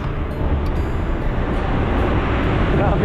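Steady, loud roar of city road traffic heard from a motorbike on a long ride, a dense rumbling wash of engines and tyres with no breaks.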